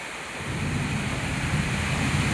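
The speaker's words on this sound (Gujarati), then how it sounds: "વીજળી ને કડાકાની સાથે વરસાદ, ફૂલ લાઈવ વરસાદ જોઈ શકો છો તમે" Heavy monsoon rain pours steadily in Surat during a thunderstorm with lightning, a dense continuous roar of close rainfall and low rumbling that holds loud and even throughout, with no voices.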